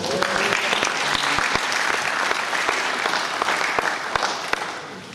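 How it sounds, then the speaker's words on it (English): A church congregation applauding, sustained crowd clapping with sharp individual claps and some voices mixed in, loud and steady throughout. "Give God a clap of it."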